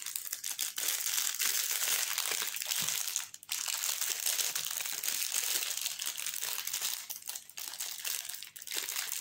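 A diamond painting supply package is wrestled and torn open during an unboxing: continuous close crinkling and crushing of plastic wrapping, loud and busy, with brief pauses between handling bursts.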